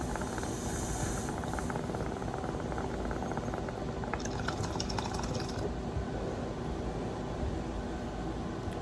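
Water bubbles steadily inside a glass bottle water pipe, a continuous gurgling hiss with a brief burst of brighter bubbling near the middle, close and alone.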